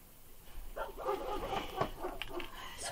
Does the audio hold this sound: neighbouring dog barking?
yes